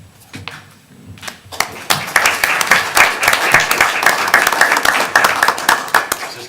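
Applause breaks out at a city council meeting after a mayor's award is presented, starting with a few scattered claps, then building into dense, close clapping from a small crowd that continues to the end.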